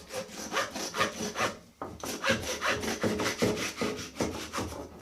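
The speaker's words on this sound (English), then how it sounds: "you really need a butcher's saw" Steady back-and-forth sawing with a butcher's saw through a pork carcass, a rhythmic rasping stroke roughly twice a second, close and clear, cutting through something dense.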